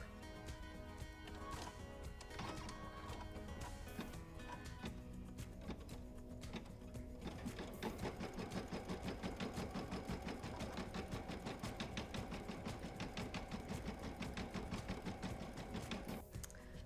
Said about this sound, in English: we'll stitch out a placement stitch